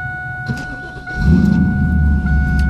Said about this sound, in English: If I actually turn the car over, and I'll show you what it does.